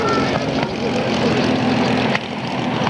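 A P-51 Mustang propeller fighter rolls along the runway after landing at the 1988 La Ferté-Alais air show, its engine and propeller giving a steady, fairly loud broadband drone with no one talking.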